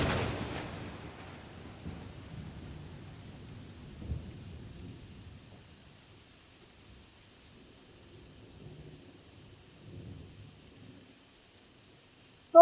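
Rain falls with thunder during a rainy scene in a Pakistani drama. A faint, low rumble fades in the first few seconds, and soft rainfall and distant rolls continue quietly beneath it with no speech.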